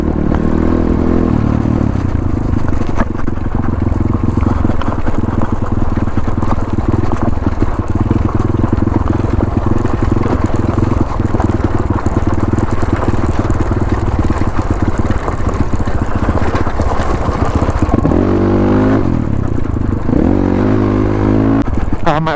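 A dirt bike engine drones loud and close as it climbs rocky mountain trails near Eagle Mountain and Lake Mountain, rising and dipping in pitch with throttle changes, over rattles and clatter from the rough terrain.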